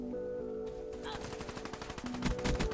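Gunfire in Black Ops 3 multiplayer on PS4: a rapid stream of shots over game music and ambient noise, growing denser and louder toward the end, with some speech underneath.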